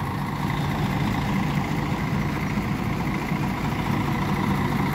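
A large Mercedes-Benz 500 RSDD diesel bus engine idling close by in a garage, a steady low rumble with an even mechanical hum that holds constant without any voices.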